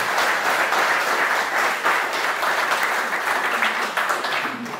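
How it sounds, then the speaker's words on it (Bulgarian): Audience applause at an event for a basketball club anthem, dense continuous clapping from a crowd, loud and sustained throughout. "Моля за аплодисмент."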